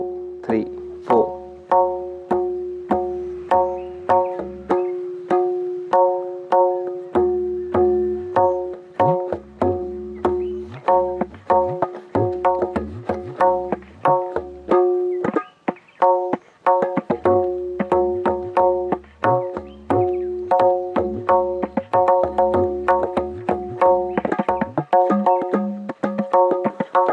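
A tabla plays the Teen Taal cycle with added variations, filling the basic beat with dense, rapid strokes. Ringing, resonant hits and quick rolls continue close and loud for nearly half a minute.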